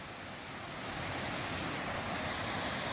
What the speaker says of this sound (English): North Fork of the Yuba River.